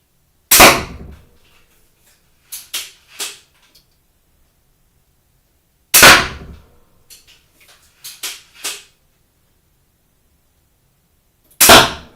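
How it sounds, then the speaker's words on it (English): Pistolenarmbrust steambow, a pistol crossbow, loosing bolts at a target: three sharp cracks spaced about five seconds apart, each followed by a couple of quieter knocks, with silence between. "So I'm just going to go back now and fire the 6 shots."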